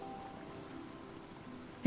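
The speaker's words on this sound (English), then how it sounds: "It's just rain." Steady light rain patters in the survival game Stranded Deep, a soft even hiss with a faint low hum, then a sudden loud sound cuts in at the very end.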